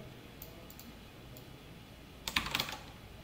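Computer keyboard keys are pressed for a Ctrl+U shortcut: a quick, faint cluster of clicks after a long quiet stretch, with no voices.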